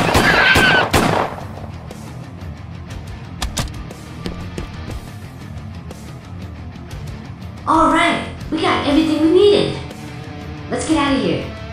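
Rapid gunfire effects in a Mega Bloks stop-motion animation, sharp bursts at the start and scattered shots later, followed by loud blasts and a child-like voice under the action.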